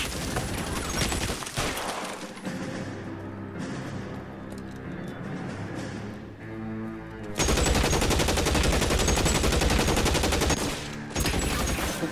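Sustained gunfire in LA Noire during a shootout at a house, dense overlapping volleys and machine-gun bursts that keep going throughout, loud and close, with a heavier rattling stretch near the end.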